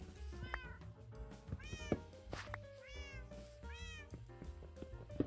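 Pet cats meow again and again, several rising and falling cries close by, layered over a soft, steady background of tones.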